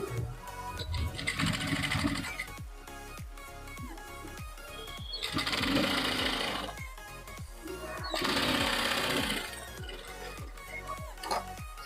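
A sewing machine stitches down a folded fabric strip on a sleeveless blouse, running in several bursts of steady rapid clatter with brief pauses between them, close and loud.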